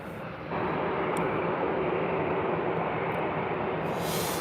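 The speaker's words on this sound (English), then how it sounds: "looks like we've got a Ryanair taxi in also" Ryanair airliner taxiing at Birmingham airport, heard as a steady, loud broadband jet engine roar that swells after a brief quieter start and holds constant throughout, with no voices.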